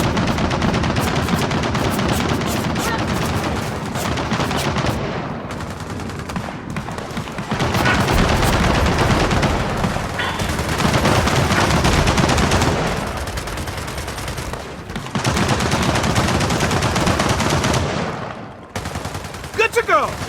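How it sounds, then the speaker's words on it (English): Machine gun fire rattles in Gears of War 4, loud sustained bursts of rapid shots in several long volleys with brief pauses, with some shouting mixed in. "Machine gun nest!"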